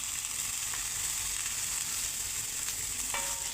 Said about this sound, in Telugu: ఆయిల్ వేసుకొని కొద్దిగా వేయించుకోవాలి.